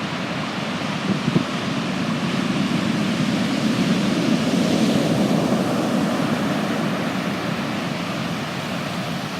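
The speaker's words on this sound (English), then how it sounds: "I'm not gonna say I'm scared, but I am respectful of these waves" Powerful Atlantic waves pound Iceland's southern coast, a continuous wash of surf mixed with wind buffeting the microphone, steady and loud throughout with no speech.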